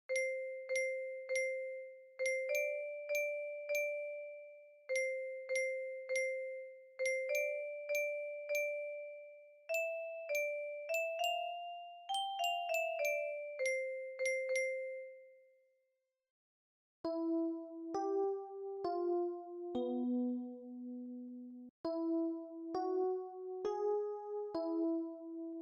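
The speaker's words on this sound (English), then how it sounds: "The Westminster chimes mark the top of the hour," Westminster chimes ring out as bright, bell-like music-box notes in repeated descending phrases, clear and moderately loud, with a brief pause before a lower-pitched sequence continues.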